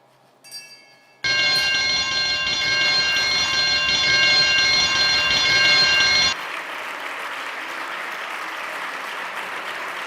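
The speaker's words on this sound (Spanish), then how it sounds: "Y sin más, Arantxa, si quieres procedemos al toque de campana." A bell struck at a ceremony for gender equality rings out with a bright sustained metallic tone for several seconds, then cuts to a wash of applause from the gathered crowd.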